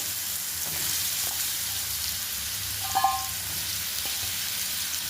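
Potato slices frying in hot oil with cumin and asafoetida, a steady soft sizzle throughout with a brief stirring clatter midway.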